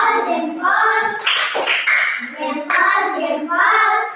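Children in a classroom perform a rhythmic salute clap, a quick patterned series of hand claps mixed with young voices chanting along, loud and close.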